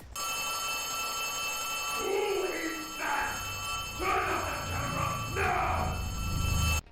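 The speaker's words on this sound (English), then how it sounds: "The doctor is then interrupted by a phone ringing." An old-fashioned telephone bell in the video game Poppy Playtime rings in several long bursts with short pauses, loud and electronic-sounding over a steady hum.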